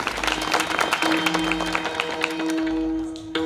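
An audience at a kirtan claps in a quick, uneven burst of applause, layered over a sustained drone tone and a rumbling low background that continue as the clapping tapers off toward the end.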